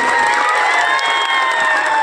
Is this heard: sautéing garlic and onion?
no